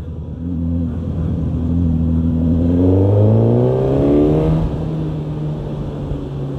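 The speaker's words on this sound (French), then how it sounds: "Un moteur super volontaire. Ça reprend dès les bas régimes" Four-cylinder engine of a Suzuki GSX-S1000 motorcycle pulls hard from low revs, its loud, smooth tone climbing steadily in pitch, then easing back to a steady drone.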